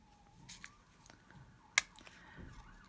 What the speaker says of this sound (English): Sorry, I'll just let the siren go past.